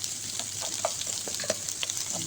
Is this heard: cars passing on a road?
no